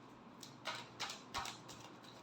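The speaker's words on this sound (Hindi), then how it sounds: "last shuffle" Tarot cards being shuffled in a few quick bursts of papery riffling, close and fairly quiet, with no voices.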